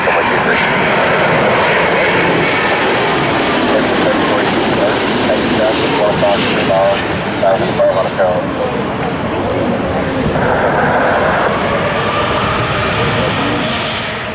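Loud, close jet engine roar from a KLM Asia airliner at Toronto Pearson airport fills the scene steadily, with people talking over the noise.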